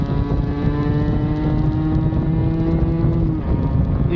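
A motorcycle that its young rider has owned for two years, heard while riding: a steady, close engine drone with continuous wind rush over the microphone, holding even throughout before a brief dip near the end, with no talking.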